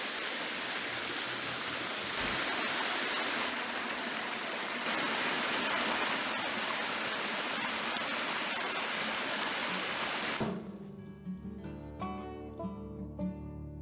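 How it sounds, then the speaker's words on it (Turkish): A stream and waterfall at Morgul Deliklikaya waterfall in Turkey roar as a steady, loud broadband rush for about ten seconds, then cut abruptly to quieter tonal sound. "Suyun sesi de harikaydı."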